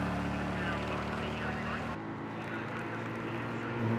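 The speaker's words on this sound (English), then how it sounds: "I can hear an engine revving." Race car engine revving in a GTE racing game, a steady droning engine tone that drops in pitch partway through, with commentators talking over it.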